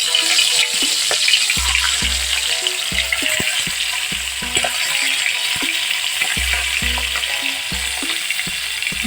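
Taki fish sizzles and fries in hot oil with salt and turmeric, a constant loud crackling hiss broken by repeated low thumps and scrapes of stirring.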